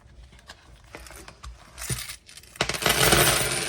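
Coins clink and drop in a quick series of sharp metallic taps, growing into a louder jingling shuffle of change toward the end, close and without talk.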